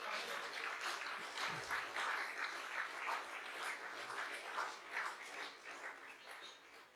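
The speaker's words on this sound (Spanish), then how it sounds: "te quiere darle un aplauso a la gloria de Dios" A church congregation gives faint, distant applause, a soft steady patter of many hands with a dog barking once partway through.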